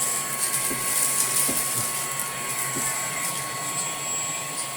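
Household vacuum cleaner running with a pointed crevice hose attachment, a steady whining drone with a high tonal whistle and a few faint knocks as the nozzle is moved, fairly loud and close.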